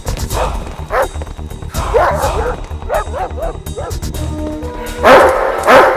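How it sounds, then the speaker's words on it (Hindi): A pet dog barks in repeated sharp bursts, some yipping and whimpering between them, loud and close, with a louder burst of barking near the end and some voices in the background. "ये उनका पालतू कुत्ता है सर।"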